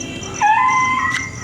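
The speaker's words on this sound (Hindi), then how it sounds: "कुत्ते को, तो जरा सा करवट लेता है तो चिल्लाने लगता है" A dog in severe pain cries out as it shifts position, a single rising whine with harmonic overtones lasting under a second, close and fairly loud over a faint background.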